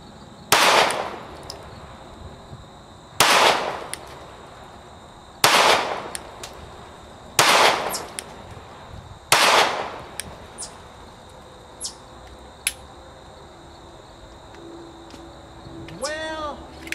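A Glock 43X pistol fires at a target five yards off, giving five loud, sharp reports spaced about two seconds apart, each with a short ringing tail, followed by lighter clicks and handling noises.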